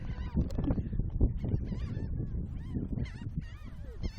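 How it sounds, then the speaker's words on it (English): A crowd of seagulls at the beach calls continuously, with many overlapping squawks and cries close by, some louder and nearer than others. "Oh my goodness, seagulls everywhere."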